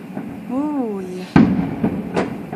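Fireworks booming outside a window at night, with a sharp loud blast partway through followed by a lesser bang and rumbling echoes, while people talk and react nearby.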